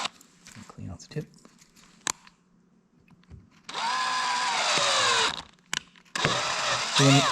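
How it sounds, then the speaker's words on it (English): A drill motor drives a lubricated tap into a hole in two loud bursts. Its whine drops in pitch as it strains under load, with quieter handling noises and brief voice sounds in between. "when you hear the drill motor start to really work hard, stop"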